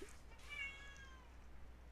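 A house cat meows near a door, one drawn-out, slightly rising mew in a quiet room over a low hum.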